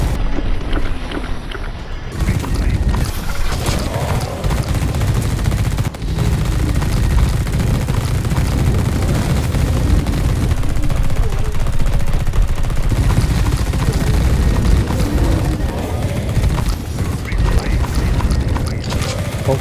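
Incendiary charges going off in the sci-fi tactics game The Red Solstice, a dense, continuous roar of bursts and crackling fire that stays loud for about twenty seconds.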